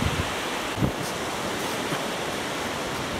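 Waves of an incoming tide washing up a beach at Carnoustie, a steady loud roar of surf mixed with wind buffeting the microphone, continuous with no voices.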